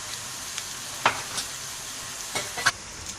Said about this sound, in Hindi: इसको हमें प्याज को ब्राउन नहीं करना, बस थोड़ा सा इसको सौते करना है।